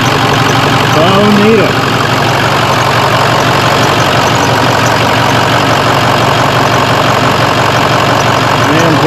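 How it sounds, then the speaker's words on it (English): A motor idles loudly and evenly throughout, a dense steady drone with a light mechanical clatter, while someone speaks briefly near the start. "Oh, the motor's a lot quieter now, imagine that."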